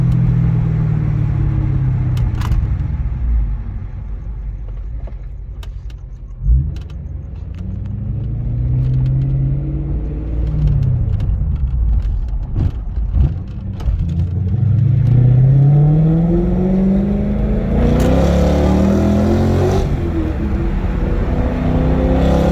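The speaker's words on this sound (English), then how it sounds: "This car sounds amazing with the exhaust." A 2001 BMW E39 M5 engine revs up and down repeatedly with a deep, throaty exhaust rumble, loud and close throughout.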